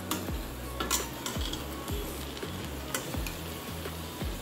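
Aloo matar pulao being served out of a pot with a spoon, repeated scraping and clinking strokes against the metal over a soft sizzle, close and steady, with no talking.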